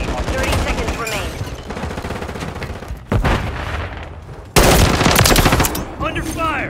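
Loud, rapid bursts of machine-gun fire and gunshots in Call of Duty multiplayer, coming in sustained volleys with sharp jumps in intensity, mixed with in-game radio voice callouts.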